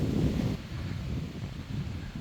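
Strong wind buffeting a cottage roof under renovation, a low blustery roar that gusts hardest at the start, then eases into a steadier rush, with no voices.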